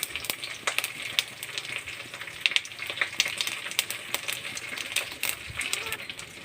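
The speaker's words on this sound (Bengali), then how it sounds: "কিছুটা জিরে ফোড়ন দিয়ে দিলাম।" Cumin seeds and fish fry in hot oil, giving a steady crackling sizzle with frequent sharp pops and spits, close and fairly faint, with no voices.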